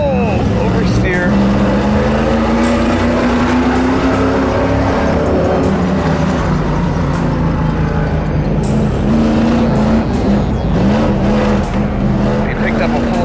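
A stock car engine roars steadily up close as it drifts through oversteer on a race track, a loud continuous drone with rising and falling pitch and possible tire squeal, with a voice talking over it.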